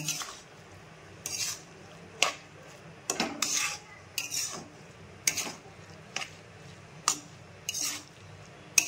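A sweet coconut mixture for naru is stirred in a kadai over a gas flame, giving irregular scraping and clinking strokes of a spoon against the pan, close and moderately quiet, with no talking.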